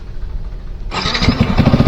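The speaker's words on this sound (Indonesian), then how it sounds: "Ini kita hidupin dulu motornya ya." A Yamaha WR 155 motorcycle fitted with a 3Tech Ronin Musashi exhaust in standard mode starts up about a second in. The faint low rumble before it jumps into a loud, steady idle with rhythmic exhaust pulses.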